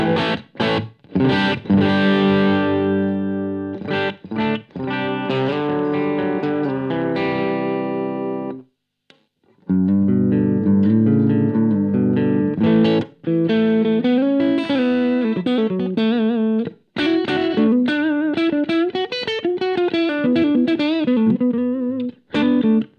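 Electric guitar played through a Two Notes Torpedo Captor X on a Dirty Clean 70s Plexi amp setting, loud overdriven chords and riffs with sustained ringing notes, a brief pause midway, then busier melodic lines.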